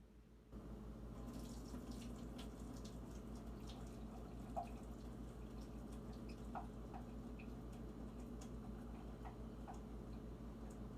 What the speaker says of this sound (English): we're going to hold the fork over the noodles like that, and we're going to drain the broth into our sink